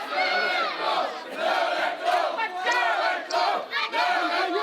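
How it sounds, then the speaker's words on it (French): A wrestling crowd at a JCW show in St-Honoré loudly chants a call at Jason Petitclerc, a dense wall of massed voices rising and falling in rhythmic waves throughout. "on peut entendre un call, un cri que la foule dit souvent à Jason Petitclerc"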